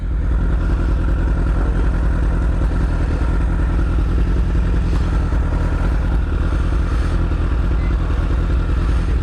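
A motorcycle engine drones loud and steady from start to finish, with a rough mechanical clatter layered in and no clear fade of a pass-by. No one speaks.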